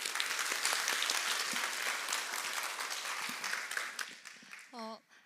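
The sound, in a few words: applause welcoming a speaker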